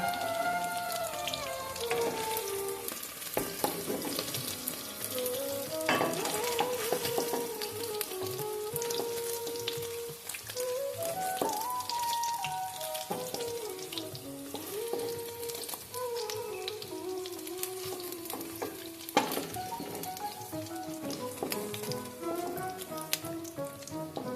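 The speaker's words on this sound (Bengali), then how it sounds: "পনিরটা আমি লাল লাল করে ভেজে নিয়েছি, এখন আমি পনিরটা" Paneer cubes fry in hot oil with a continuous dense sizzle and crackle, heard alongside steady background music throughout.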